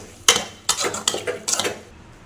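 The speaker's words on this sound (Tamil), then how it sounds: "அப்படியே ஒரு பரட்டி நல்லா குத்தி விடுங்க" A spoon stirring chicken curry tomato gravy in a metal pan: four distinct scraping, clinking strokes in quick succession, close and fairly loud, with no talking.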